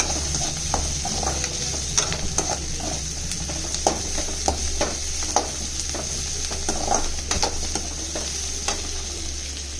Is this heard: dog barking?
no